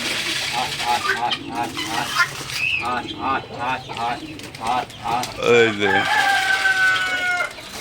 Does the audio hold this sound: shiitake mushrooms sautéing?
no